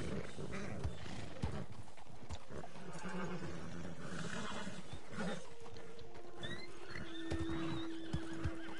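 Horses in the Red Dead Online video game whinny and neigh repeatedly amid clopping hooves, with several animals calling at once, some shrill cries rising near the end over a busy, restless background.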